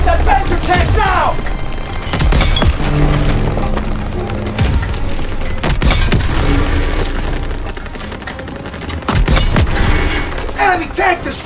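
Panzer tank destroyed in Call of Duty: a dense, loud stretch of booming blasts, splintering cracks and gunfire, with a shouting voice over the din.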